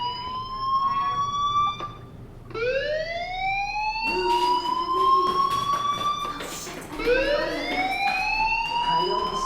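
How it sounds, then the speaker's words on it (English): Electronic fire alarm in the video game Life is Strange, wailing in repeated rising siren sweeps that climb and hold, steady and fairly loud throughout with no talking over it. "do you hear that fire alarm? That means you should be outside."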